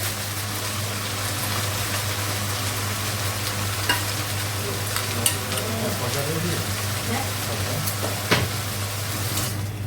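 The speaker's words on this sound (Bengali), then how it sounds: "এটা রসুন বাটা, ভেজে নিব 2-3 মিনিট।" Garlic paste frying in a pan, a steady broadband sizzle with occasional stirring scrapes and clicks, continuous and fairly close, with a low steady hum underneath.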